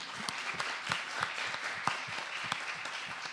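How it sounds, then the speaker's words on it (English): Audience applause at the opening of the ICEM 2017 conference, a steady wash of many hands clapping with scattered sharper claps standing out, moderately loud and continuous throughout. "Please, round of applause for Ilaria."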